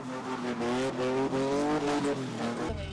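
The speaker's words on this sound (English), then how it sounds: "tires screech" A car spinning in circles at a South African car-spinning event, its engine revving hard with a steady, rising and falling drone and tires screeching throughout, loud and close.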